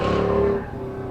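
LS-swapped Chevrolet S10 pickup powering hard through an autocross course, a loud, steady V8 drone with strong low harmonics that eases off slightly partway through, heard alone.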